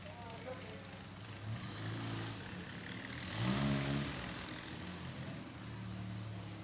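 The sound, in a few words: 1959 Triumph TR3 Roadster engine revving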